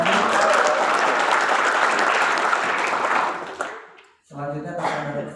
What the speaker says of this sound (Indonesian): Sekali lagi beri tepuk tangan kembali lagi.